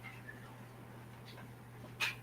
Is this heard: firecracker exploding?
no